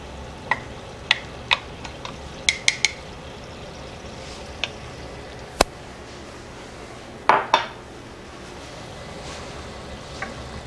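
A spoon stirs cream into a reduced chicken broth in a pan, with scattered clinks of metal against the pan and a low simmer underneath, and no one speaking.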